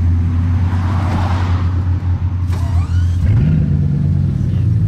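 Bugatti Chiron engines fire up one after another in a convoy, a loud deep rumble that steps up in pitch partway through as a second car starts, heard close and without speech.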